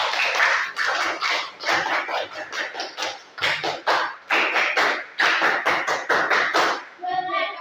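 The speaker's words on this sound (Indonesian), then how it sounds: "Kita cukup dengan 2 kali tepuk pramuka." A group doing scout-style rhythmic clapping in a classroom, with loud, close, sharp claps in quick patterned bursts separated by short pauses, repeated twice.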